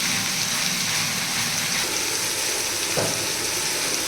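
Shrimp curry with chili powder, salt and softened tomato sizzles steadily in a pan, a dense, close, continuous frying hiss with a brief stir near the end and no talk.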